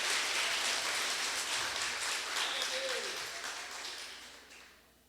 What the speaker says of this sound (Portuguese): Dá um aplauso aí para Jesus.